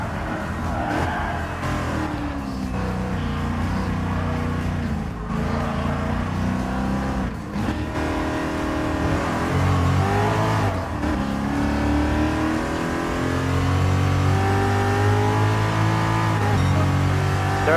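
A turbocharged car in Gran Turismo Sport racing downhill, the engine note rising and falling through gear changes, loud and close, with a voice briefly heard.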